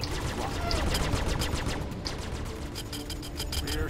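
Star Citizen spacecraft's rear shield absorbing gunfire, a dense rapid crackle of hits and bursts over a steady low engine rumble, loud and continuous throughout.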